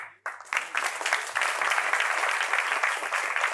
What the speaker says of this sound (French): On l'applaudit pendant qu'elle arrive.